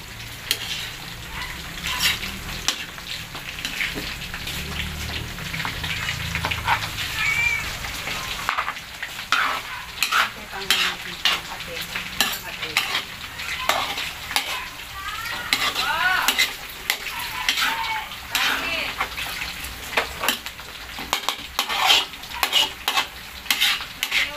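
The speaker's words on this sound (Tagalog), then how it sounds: "next na ginigisa po natin is sipo egg" Sipo egg sautéed in a pan for a village fiesta meal, with a loud continuous sizzle and rhythmic scraping of a spatula that turns into busy, irregular clatter, close and alone.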